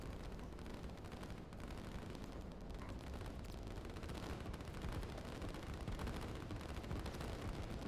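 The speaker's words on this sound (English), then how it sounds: "this artillery line is just terrifying if you're this infantry running into it" Artillery barrage in the real-time strategy game Line War, a dense, continuous rumble of overlapping blasts and gunfire at steady loudness, with no pauses and no talk.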